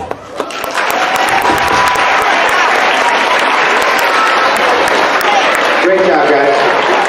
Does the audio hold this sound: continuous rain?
no